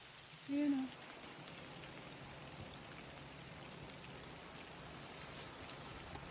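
Rain falling outdoors near an apple tree, a soft, even hiss of drops that stays faint throughout, with a brief voice sound near the start.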